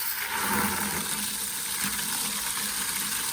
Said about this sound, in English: the first thing we're gonna do is we're gonna fill up the bucket with some water.